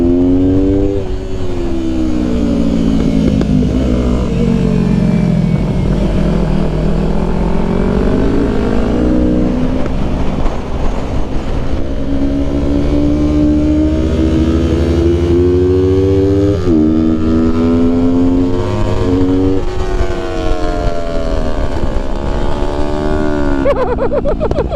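A go-kart engine at a kart track day buzzes loud and close for the full stretch, its pitch climbing and dipping through revs with a sharp drop at a downshift midway, nearly continuous with no pauses.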